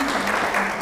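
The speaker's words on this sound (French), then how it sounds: "D'abord on applaudit" Applause from the audience at an academic seminar, brief dense clapping at steady loudness for under a second.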